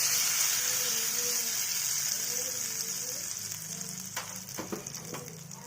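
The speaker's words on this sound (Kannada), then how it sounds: "ಇವಾಗ ಇದಕ್ಕೆ ಒಗ್ಗರಣೆಯನ್ನು ಹಾಕಿಕೊಳ್ಳೋಣ." Urad dal, mustard seeds, coriander and curry leaves fry in hot oil for a coconut chutney tempering, a steady close sizzle that fades slightly, with a few sharp pops and crackles near the end.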